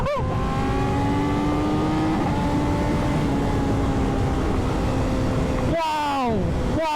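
A naked superbike engine revs hard and steadily during a high-speed wheelie in fifth gear. Its loud, sustained tone rises in pitch, then drops sharply and climbs again near the end as the bike passes close by.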